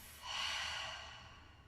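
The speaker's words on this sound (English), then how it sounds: "Inhaling through your nose. Exhale through your mouth." A single deep breath during a yoga balance flow session, one soft airy exhale that swells and fades, quiet and close with no talk.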